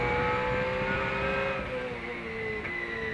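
Trans Am race cars passing at Road America, with high, strained engine notes shifting pitch as they sweep by one after another, moderately loud against track ambience.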